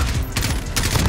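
Gunfire in the video game Modern Warfare, a dense burst of rapid shots and bursts filling the moment, loud and close, with no talking over it.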